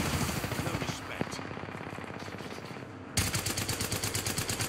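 Rapid automatic gunfire from the Apex Legends video game, dense repeated bursts up close that stop briefly and then resume, with game sound layered underneath.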